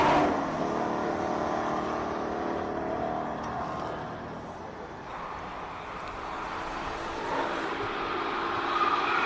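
Golf GTI race car on a hillclimb run, its engine a steady loud roar that holds throughout, surging and easing slightly as it drives the course.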